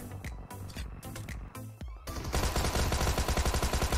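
Gunfire in a shooter video game: a few spaced, sharp shots for about two seconds, then a loud burst of rapid, continuous fire.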